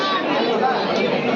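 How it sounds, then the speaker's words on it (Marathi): A dense crowd murmurs and chatters at a Sai palkhi bhandara in Ganesh Nagar, Bhandup, Mumbai, many overlapping voices forming a steady, close wash of talk. "अजूनपर्यंत रस्त्यापर्यंत गर्दी."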